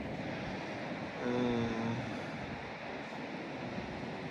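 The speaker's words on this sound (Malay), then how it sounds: "Boleh dengar bunyi ombak dia kan, berderu-deru." Ocean surf rolling in below Teddy's Lookout on the Great Ocean Road, heard from a hilltop as a steady, distant broadband roar with no distinct individual breaks.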